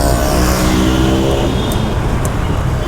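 A Yamaha MT-15 motorcycle, just fitted with new brake pads at a showroom, rides off with a loud, close engine drone. A harmonic whine shifts in pitch as it pulls away, with no talking.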